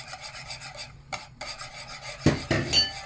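Spoon or whisk scraping and rubbing through warm chocolate cream in a pan as 30 grams of butter is stirred in to melt, a steady close rasping with a couple of louder scrapes near the end.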